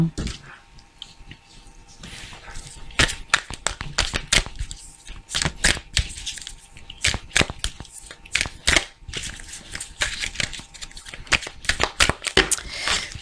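Oracle cards being shuffled and cut, heard as close, crisp bursts of riffling and snapping card edges in irregular clusters, with little else in the background.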